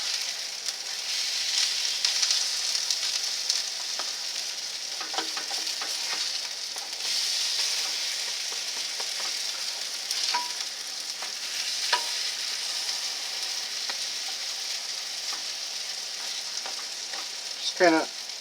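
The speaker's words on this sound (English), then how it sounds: "Just kind of pressing them down a little bit with the spatula" German potato pancakes sizzle steadily in a hot pan, with a few scraping taps as a spatula presses them flat, close and continuous with no talking.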